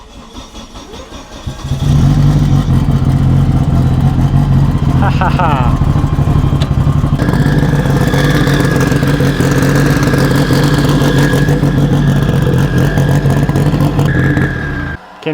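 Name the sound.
2000 Honda Civic Si engine starting and idling, loud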